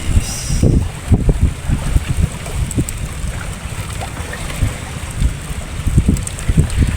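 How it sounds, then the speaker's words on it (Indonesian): Strong wind buffets the microphone on a boat at sea during a fishing trip, with loud gusty rumbles and rushing water-like noise throughout. "Anginnya udahan dong"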